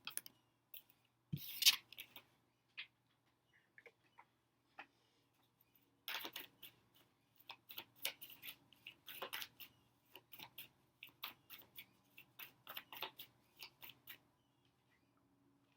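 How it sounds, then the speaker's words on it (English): Tarot cards are shuffled and one card is drawn. A sharp snap comes early, and after a pause a run of quick, light card flicks and slides follows, close and quiet, with no talking. "I'm going to take a second and pull an outcome card"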